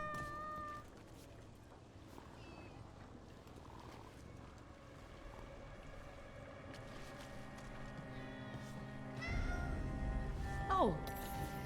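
A cat meows in the video game Dragon Age: The Veilguard, a short rising call near the end over a steady hum of game ambience, with a voice speaking earlier.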